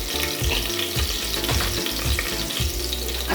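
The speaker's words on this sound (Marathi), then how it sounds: "असं छानपैकी परतून घ्यायचं." Rajma masala sizzling and frying in a pan with asafoetida, a steady close hiss of hot oil broken by repeated scraping stirs, with no talking.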